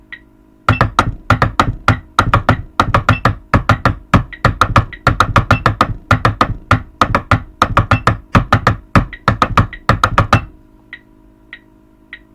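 High school drumline rhythm played twice through on drums, a long run of crisp, loud, evenly pulsed strokes with accented groupings, ending in a few light clicks, close and with no voices.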